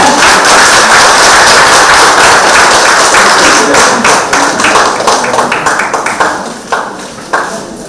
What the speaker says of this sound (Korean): 큰 박수로 한번 모셔보겠습니다